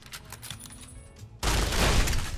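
A loud burst of gunfire erupts in a Fallout New Vegas firefight, dense continuous shots for about a second after a quieter stretch of ambient game sound.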